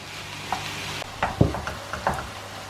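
Minced beef frying in a pan while being stirred and broken up, giving a soft background sizzle with scattered scraping clicks and a louder knock of the utensil against the pan.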